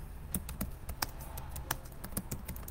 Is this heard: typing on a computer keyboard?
yes